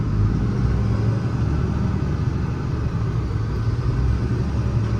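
A 2018 International 4400 service truck with a 6.7 Cummins engine and Allison automatic transmission driving, giving a steady, loud low engine rumble and road roar throughout with no pauses.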